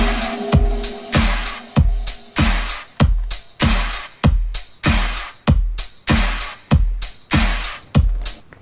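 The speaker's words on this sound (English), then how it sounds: "all together the drum sounds like this" Drum track of a song: punchy electronic kick and snare hits in a steady pattern of about two per second, loud and alone throughout.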